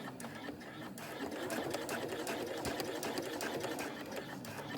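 A sewing machine stitches an appliqué onto a bag, its needle running in a rapid, even mechanical patter up close, steady for the full few seconds with a low motor hum underneath.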